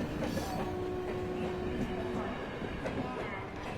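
A passenger train bound for Lucknow rolls past at moderate distance, a steady low rumble of wheels and cars with a faint tonal squeal, fairly quiet throughout and with no talk heard.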